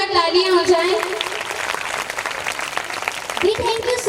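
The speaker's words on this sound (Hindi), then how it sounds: "मैं चाहूंगी डायरेक्टर सर एवं उनकी पूरी टीम के लिए जोरदार तालियां हो जाएं।" Audience applause at an annual school function, clapping that swells under a loud musical tone and announcer's voice, the crowd noise filling the background for the whole stretch.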